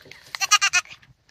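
A dairy goat at a goat show in Madison, Nebraska gives one loud, close bleat in several rapid wavering pulses, then goes quiet.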